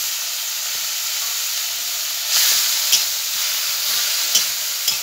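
Onion and dried fish (shutki) fry together in a small amount of oil, a steady close sizzle and hiss with a few soft scraping stirs over it and no talking.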